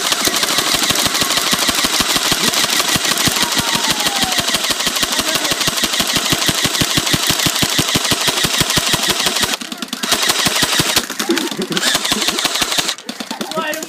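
Rapid, steady rattle of airsoft guns firing on full auto, a loud continuous stream of shots with only brief pauses near the end, while people talk and shout in the background.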